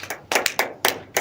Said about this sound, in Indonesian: tepuk tangan untuk Fatu.